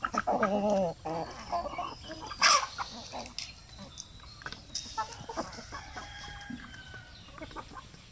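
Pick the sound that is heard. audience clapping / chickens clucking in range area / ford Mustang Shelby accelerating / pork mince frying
chickens clucking in range area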